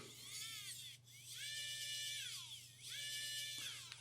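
A SEQURE ES555 electric screwdriver whirs in short high-pitched bursts, its motor spinning up and winding down three times under a constant low hum, close and alone.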